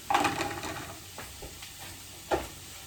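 Coconut oil sizzles in a frying pan while protein spaghetti cooks, a soft steady hiss broken by a few scraping stirs, one near the start and another later. No one speaks.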